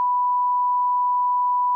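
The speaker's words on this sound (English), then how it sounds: "If you beep this out" A censor beep from a podcast conversation, one steady pure tone held for almost two seconds at even loudness, heard alone and cutting off sharply at the end.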